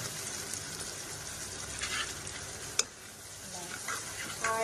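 Faint, steady sizzling of a tomato, onion, salt and turmeric gravy frying in oil, broken once by a sharp utensil clack midway.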